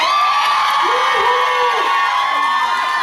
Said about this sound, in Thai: ขอเติมเสียงกรี๊ดให้กำลังใจพวกเขาด้วยครับ